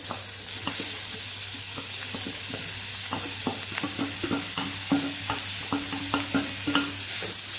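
Grated bottle gourd sautéing in a pan with oil and curry leaves, a steady low sizzle punctuated by repeated scraping and clinking strokes of a spoon stirring, close and continuous.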